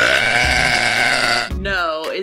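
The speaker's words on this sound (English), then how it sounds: "I can do anything from small burps to big monster burps" A long, loud, deep burp rumbles close up, followed by a shorter, higher croaking belch at the end.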